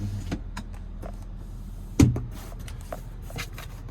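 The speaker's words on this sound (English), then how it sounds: "And then we do get that power sliding rear window." Power sliding rear window on a 2025 GMC Sierra 2500 HD SLT pickup, a faint steady motor whir inside the cab with a single firm thunk as the glass reaches its stop midway.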